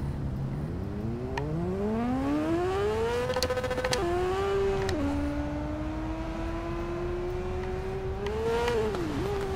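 A racing motorcycle engine in the TT Isle of Man Ride on the Edge 2 video game revs loud and close, its pitch climbing steadily through the gears with brief drops at each shift and a final dip near the end.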